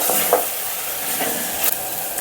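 Chili powder being stirred into a pot of yellow cucumber moong dal, a hissing sizzle with a few light spoon scrapes, close and steady, with no voices.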